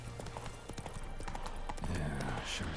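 Horse hooves pound in a steady gallop in Witcher 3: Wild Hunt, a continuous clip-clop rhythm mixed with game ambience and a low rumble.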